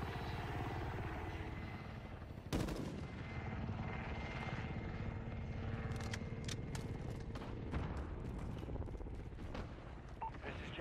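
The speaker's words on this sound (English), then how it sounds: "Support helo ready to launch." A support helicopter's rotor chops and drones steadily in a Call of Duty style multiplayer match, joined by a sharp boom and scattered bursts of gunfire, with no talking.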